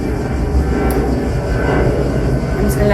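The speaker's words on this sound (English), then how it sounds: "I'm just going to let this plane pass." An airplane passes overhead near an airport, a loud continuous engine rumble and roar holding steady throughout, with faint background sounds and no one talking.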